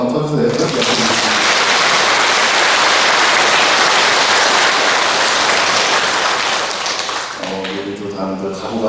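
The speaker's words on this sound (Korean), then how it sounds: "옆에서 격려의 박수 한번 쳐주세요" A church congregation at a Lent Sunday Mass bursts into loud, sustained applause that fills the room for several seconds, then fades as a voice resumes speaking over the last claps.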